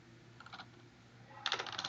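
Code being typed on a computer keyboard, a faint close flurry of light key clicks in two short bursts, quiet and without speech.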